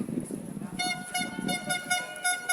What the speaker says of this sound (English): And you can hear that iconic air horn that I'm pretty sure the Belgian crowd brought with them.